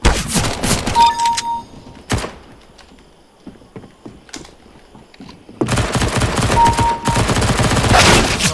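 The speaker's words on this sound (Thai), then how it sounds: "เฮ้ย ใครยิง" Gunfire in the video game CS:GO, loud clustered rifle bursts at the start, a single sharp shot, quieter scattered clicks and footsteps, then a sustained heavy volley of shots to the end.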